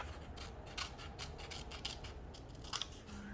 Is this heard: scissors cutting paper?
yes